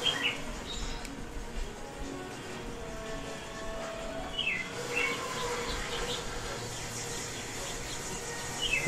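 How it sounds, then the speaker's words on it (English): Birds chirp outside a window in short, high, intermittent calls spaced across a few seconds, fairly faint over a steady background hum. "I'm gonna close that window if they're gonna be chirping like that."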